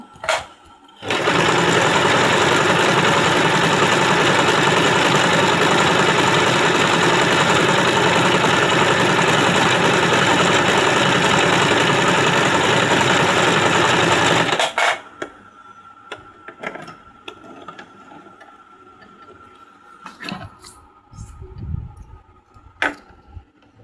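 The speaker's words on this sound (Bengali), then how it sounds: "এই ডাবল এসটা আনবো। এই পয়েন্ট অনুযায়ী ডাবল এস আনছি।" A Singer SM024 sewing machine stitches a double S pattern in one steady, loud, continuous whirring run of about fourteen seconds, then stops, leaving only faint handling clicks and rustles.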